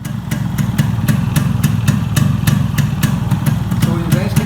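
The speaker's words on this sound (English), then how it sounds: "So you guys can hear the engine." A Yamaha RX-based motorcycle engine idles steadily up close, with a low, even rumble and regular ticking clatter throughout and no change in revs.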